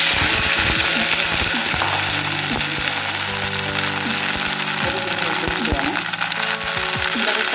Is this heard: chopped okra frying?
yes